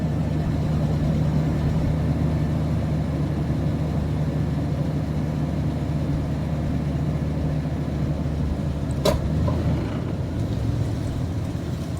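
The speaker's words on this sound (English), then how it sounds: "Ooh, that truck loud." A loud truck engine rumbles steadily nearby outdoors, a continuous low drone with a short sharp transient near the end.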